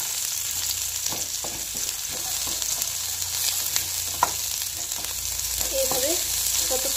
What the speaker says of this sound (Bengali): দিয়ে দিলাম পেঁয়াজ কুচি। এবার এগুলোকে হালকা করে ভেজে নেব।